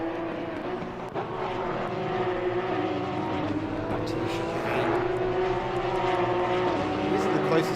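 Porsche Cup race cars lap the Hungary circuit in a racing video game, their engines droning and shifting in pitch as they run close together, while a commentator talks over them throughout.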